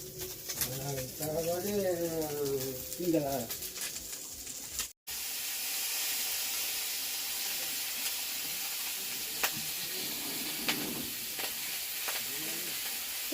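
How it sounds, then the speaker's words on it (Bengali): A voice talks briefly, then a steady, loud sizzling hiss of seeds frying in hot oil takes over and runs on without a break. "বীজগুলো চচ্চর চরচর করছে"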